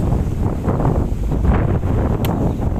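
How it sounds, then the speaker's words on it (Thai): Dry seasonal wind gusting through a remote hill-tribe village with no electricity, a steady rushing blow buffeting the microphone for the whole stretch, with no voices. "ลมแห้งแห้งเนาะช่วงนี้"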